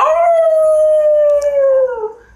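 A human voice imitates a wolf or dog howl: one long, sustained, loud howl held steadily at a single pitch, then sliding down and fading at the end, with no other sounds around it.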